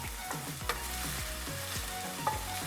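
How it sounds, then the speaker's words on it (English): Garlic and onions sizzle steadily in a hot pan while making Filipino pancit bihon, with a dense continuous frying hiss broken by a few scraping stirs and sharp clicks of a utensil against the pan. "now what we're gonna do is we're gonna add in our garlic"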